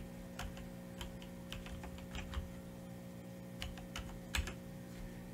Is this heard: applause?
no